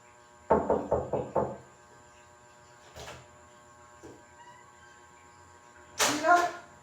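Banging on a door, a rapid burst of five heavy knocks, then a single thud and a faint tap, followed by a loud shout; the sounds are close and stand out against a quiet background.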